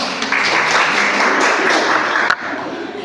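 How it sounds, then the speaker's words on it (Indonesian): Classmates applaud a student named Puput in a classroom, a short burst of dense group clapping that starts abruptly, holds steady and loud, then cuts off near the end. "Tepuk tangan buat Puput."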